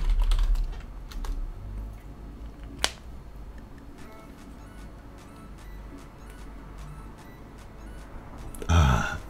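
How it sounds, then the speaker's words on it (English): Computer keyboard keys clack in a steady stream of close typing, with one sharper click partway through and a brief rustle near the end; no voices. "I have heard that key clacking is some triggers for certain people."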